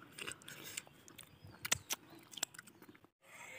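Several people eating raw green mango mixed with a sour-spicy seasoning, with close crisp bites and wet chewing crunches in an irregular rhythm, quiet overall with a brief pause near the end.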